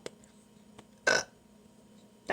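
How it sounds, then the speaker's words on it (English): A single short, abrupt hiccup sounds close to the microphone in a quiet indoor setting, with a faint low hum and a few tiny clicks around it. "Darn hiccups."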